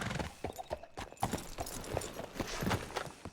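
Horse hooves clip-clop at a brisk, steady rhythm in the Western video game Red Dead Redemption roleplay, close and continuous throughout with no talking.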